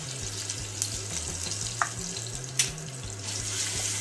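Green chilli, ginger and garlic paste frying with curry leaves, cumin and mustard seeds in hot oil, a steady close sizzle with a few light clinks of a stirring spoon.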